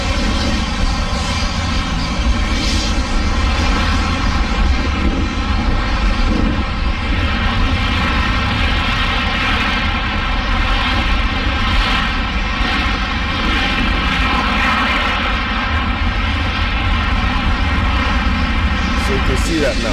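Continuous loud droning roar of a Nigerian Airways airplane engine, steady tonal hum with layered whine holding evenly throughout, close and dominant.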